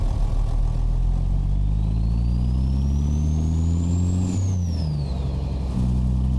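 In American Truck Simulator, a Peterbilt 389 heavy grain hauler loaded to 196,000 pounds with a 732-horsepower Caterpillar 3406E engine pulls away. Its deep diesel drone climbs steadily through the revs, then drops at a gear change and climbs again, loud and continuous.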